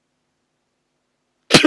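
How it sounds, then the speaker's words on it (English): A single man's cough, loud and close, bursts out after a long stretch of silence and lasts only a moment at the very end. "I had to cough, and I didn't want to just cough in the mic."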